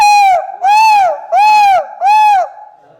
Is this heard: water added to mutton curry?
no